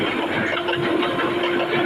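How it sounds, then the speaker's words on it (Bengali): An Intercity train crosses the railway bridge at Adamdighi, giving a steady, fairly loud rumbling drone with a faint continuous hum and no voices. "এখন আদমদীঘি সুদিনের পুলের উপর দিয়ে ট্রেন যাচ্ছে ইন্টারসিটি"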